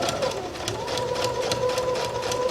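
A sewing machine stitches down a skirt hem, running steadily with a fast, even mechanical chatter and a faint whine, close by and continuous throughout.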